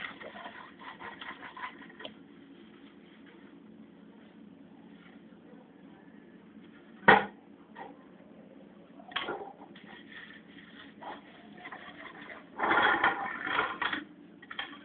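Dishes and plates are scrubbed with soap by hand, giving soft intermittent scraping and rubbing with a few sharp clinks and a louder scrubbing burst near the end, all faint and close.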